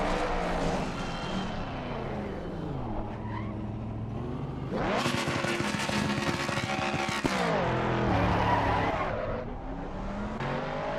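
Ford Mustang GT3 race car in the Assetto Corsa Competizione racing game, engine revving and bouncing on the rev limiter with a harsh, buzzing roar, pitch dipping and climbing, loud and continuous without talk.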